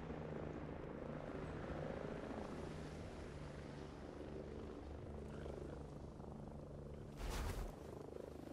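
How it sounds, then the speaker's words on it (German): Helicopter in the video game Ghost Recon Breakpoint, a steady rotor drone and engine rumble holding at a fairly even level throughout, with a brief louder burst near the end and no talking. "Ach, und dann kommt wieder der Hubschrauber."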